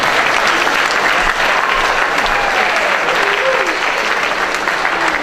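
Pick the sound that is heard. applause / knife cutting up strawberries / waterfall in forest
applause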